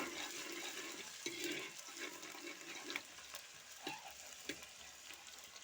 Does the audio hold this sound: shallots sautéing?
yes